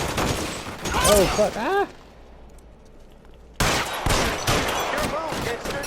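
Rapid, loud gunshots in L.A. Noire come in dense bursts, break for a brief lull, then resume, with a voice exclaiming over the shooting.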